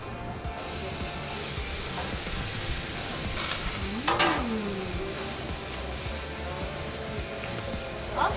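Chicken inasal brushed with garlic annatto butter sizzles steadily on a grill, with a constant hiss and crackle over faint background music and a brief sliding sweep partway through.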